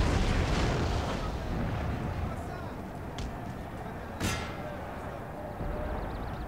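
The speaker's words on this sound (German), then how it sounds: "Schießen die dann." Cannon and musket fire in a Napoleon Total War battle at the Pyramids, with dense rumbling volleys throughout and a sharp nearer blast near the end, all under quiet talk.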